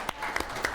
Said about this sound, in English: Let's have a little light applause for Piers Ackerman.